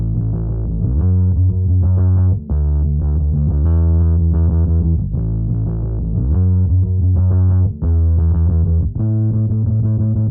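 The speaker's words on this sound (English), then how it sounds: "The very last thing to finish this beat up, guys, is going to be the bass, which is going to sound like this." A distorted, effects-laden bass line for a new wave post-punk beat, following a guitar pattern with repeating choppy riffs, loud and up front with brief gaps between phrases.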